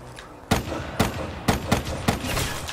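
Gunfire in Call of Duty Black Ops 3 Zombies: four sharp shots land at an even, rapid rhythm over a constant game-noise backdrop, loud and close.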